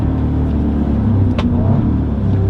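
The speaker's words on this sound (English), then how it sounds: "So I didn't even hit the paddle and yet it automatically upshifted for me" An Audi S3 driving under steady engine rumble as the automatic transmission shifts up on its own, with one brief shift-like transient midway through the continuous road drone.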